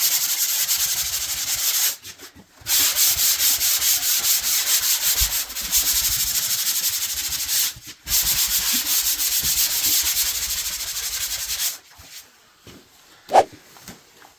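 Hand sanding of dried drywall joint compound, a raspy scratching rub in long continuous strokes with brief pauses between passes, close and loud, ending in a few quiet knocks.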